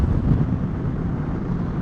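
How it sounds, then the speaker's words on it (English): Steady low, rumbling wind buffets the microphone while riding a Suzuki V-Strom 650 XT motorcycle, a dull continuous roar with no voices. "It's a bit windy to go no-handed."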